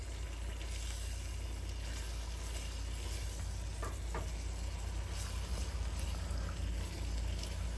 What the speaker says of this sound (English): we will add our 2 packets of Old El Paso Old School OG taco seasoning in there. And give that a mix